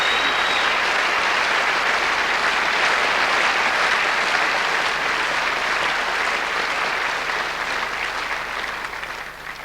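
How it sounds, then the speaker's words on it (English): Sustained applause from a large television studio audience at the 1987 Opportunity Knocks final, loud and continuous, slowly tapering toward the end. "give them both a big round of applause."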